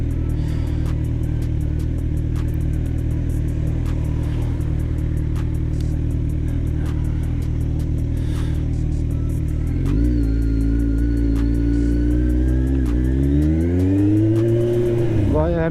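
A Kawasaki Z1000 motorcycle with an SC Project exhaust idles with a loud, steady burble, then revs up and down in rising and falling sweeps toward the end, close by.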